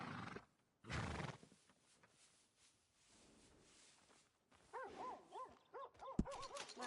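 A horse in Red Dead Redemption 2 gives a couple of close, wavering whinnies toward the end, preceded by a thud and soft hoof clops, with a low ambient bed and no talk.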